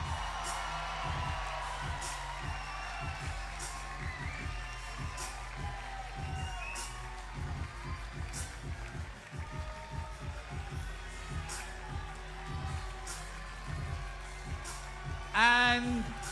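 Crowd cheering for Team Riffa at a FIBA 3x3 World Tour basketball event in Manama, a broad steady roar with scattered whoops and claps, joined by rattling noisemakers and a sharp burst near the end.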